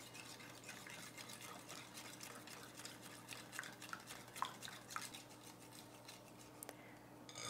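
A utensil stirs milk and vegetable oil in a bowl, giving faint, quick repeated clinks and scrapes over a low steady hum.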